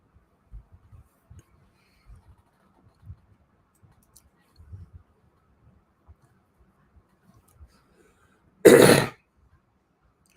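A single loud cough or throat clearing bursts out near the mic, standing alone after quiet stretches of faint low rumbling and small noises, during a political talk broadcast.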